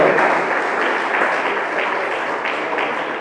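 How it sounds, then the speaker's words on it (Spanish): A crowd at a religious gathering in a prison in Espinal, Tolima applauds loudly and steadily, dense clapping filling the space from start to finish with no voices standing out. "Dele ese aplauso grande y fuerte al Todopoderoso."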